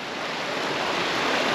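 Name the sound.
river flowing strongly beside a tent after rain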